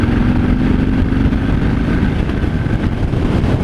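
A 2018 Harley-Davidson Fat Bob 114 engine drones steadily while riding at speed, a loud, low rumble mixed with heavy wind buffeting, close and continuous.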